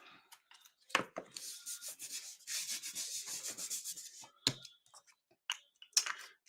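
Faint, close scraping and brushing strokes as paper card edges are distressed, a run of soft rubbing passes followed by a few sharper isolated scratches in a quiet room.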